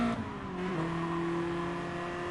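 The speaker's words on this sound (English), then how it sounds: "Hyundai's got good power once it gets up into about third gear." Hyundai race car in the video game GT Sport pulling up through the gears, its engine note climbing with a shift early on, then holding a steady, loud drone with no voices over it.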